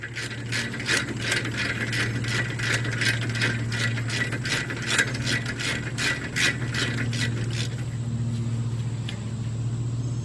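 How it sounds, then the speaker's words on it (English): A 3/8 drive ratchet works the rear brake caliper bracket bolts on a 2001 Jeep Grand Cherokee Laredo, with rapid, even clicking bursts up close for most of the stretch over a low steady hum. "Allen socket, 3/8 drive ratchet, 2 nuts, 2 bolts right in the back of the caliper."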